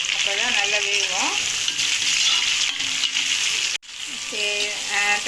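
Tomatoes with salt sizzle loudly in a pan while being stirred, a continuous close frying hiss with scraping stirs, a brief dropout, and a faint voice-like tone in the background.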